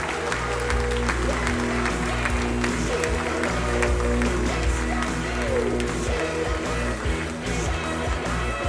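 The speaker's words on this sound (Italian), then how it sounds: "sento le trombe, sento il tifo, tutti insieme per Margherita Panziera" Crowd at a women's 100 m backstroke swimming final, steady dense applause and cheering with trumpets and a commentator's voice over it throughout.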